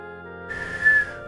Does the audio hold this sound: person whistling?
yes